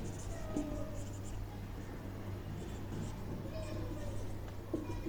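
Pen writing out a math solution by hand, soft scratchy strokes in short bursts over a steady low hum, faint and close, with quiet speech in the background.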